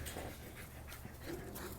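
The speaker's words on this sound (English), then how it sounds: "oh, my dogs got riled up" Several pet dogs, riled up, pant rapidly and steadily nearby at low volume, with a faint whimper-like tone in between breaths.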